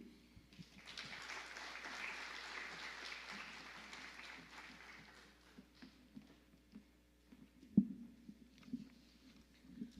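An audience at a corporate event gives a round of applause, a sustained patter of clapping that fades out into scattered claps and faint room noise.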